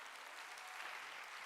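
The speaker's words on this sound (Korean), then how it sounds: "깨달은 사람만 박수 쳐." Congregation clapping together during a Korean church Sunday worship service, a dense, steady burst of applause filling the hall with no voices over it.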